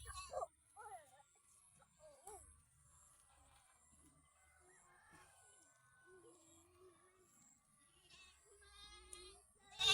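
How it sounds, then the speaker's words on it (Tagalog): A goat bleats a few times early on, with scattered voices and outdoor noise around it; the sounds are faint and somewhat distant. "Ayan na yung kambing."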